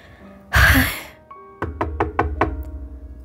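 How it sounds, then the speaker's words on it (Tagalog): Five sharp, evenly spaced knocks on a door ring out close by, preceded by a brief rustling movement and a single faint tap. "bago siya kumatok ng pinto"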